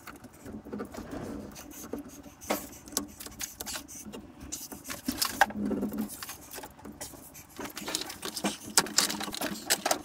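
Braided electrical cable being stripped by hand outdoors in woodland, giving irregular scraping and tearing bursts with sharp clicks, fairly close and moderately loud, alone without talk.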